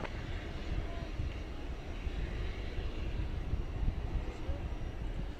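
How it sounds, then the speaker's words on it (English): Cargolux Boeing 747 freighter rolling for a night takeoff at DFW airport, a steady broadband jet roar holding fairly constant at a moderate distance throughout. "we're going to get a takeoff from the short T of this Cargo Lux 747"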